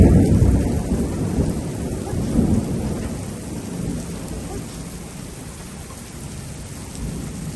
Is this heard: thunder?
yes